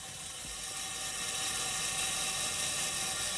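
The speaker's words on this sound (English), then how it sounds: "this is the self timer" A Zenit 11 35mm SLR camera's mechanical self-timer whirring steadily, a continuous close-up buzzing hiss that carries on evenly with nothing else heard.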